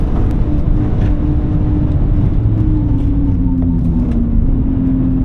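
BMW E46 M3 engine on track at the Nürburgring, a steady loud drone of the straight engine with slowly rising pitch as it pulls, heard continuously from inside the car with no clear downshift blip.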